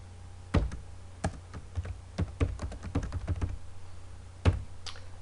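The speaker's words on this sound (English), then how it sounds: "We could type in a name." Keys on a computer keyboard are tapped in an uneven run of quick clicks, with a few heavier strikes standing out, set against a low steady hum.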